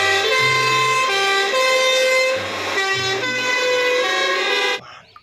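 A loud electronic siren wails in a repeating two-tone pattern with a buzzy, toy-like quality, then cuts off abruptly near the end.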